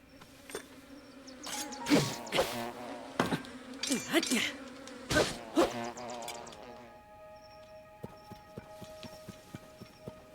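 Bees buzz in the video game Zelda: Tears of the Kingdom, a droning hum broken by sharp bursts of action sounds and clattering, then thinning to a quieter steady whine with light ticks.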